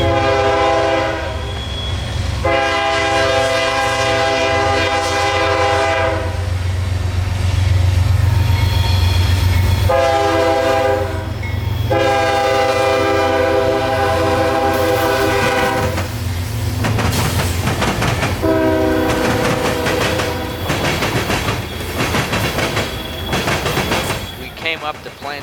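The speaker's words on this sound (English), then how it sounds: "CSX train Q442, a daily mixed freight train out of Tampa, Florida to Waycross, Georgia, was rounding the corner at his own pace" CSX mixed freight Q442 from Tampa to Waycross rounds a curve at Plant City, Florida, sounding repeated long horn blasts over a steady heavy rumble, with wheel clatter and squeal toward the end.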